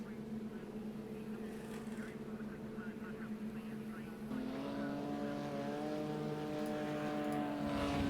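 A race car engine drones steadily in a GT3-style racing game on the Monza circuit, its pitch holding and then stepping up as the car accelerates, with faint tire noise throughout.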